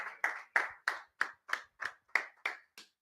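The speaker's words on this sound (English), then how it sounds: "Round of applause." About ten separate hand claps at a steady, slightly slow rhythm, close and fairly quiet, cheering a fantasy football team member at a draft gathering.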